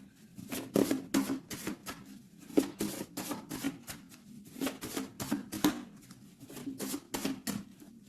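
Tarot cards are cut and shuffled by hand in a rapid series of close, crisp riffling flicks and soft slaps, coming in irregular bursts with no talking.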